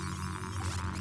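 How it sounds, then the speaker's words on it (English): Broadband alien transmission signal in a science-fiction setting: a steady droning hum with throbbing, static-laced noise and small distortion spikes, continuous and moderately loud throughout. "Random noises mixed with distortion spikes."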